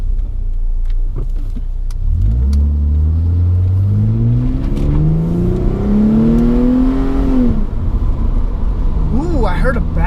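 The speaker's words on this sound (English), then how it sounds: "Ooh, I heard a backfire." Car engine revving hard through a leaking exhaust, a loud, rising and falling drone with a very faint backfire near the end, while someone talks over it.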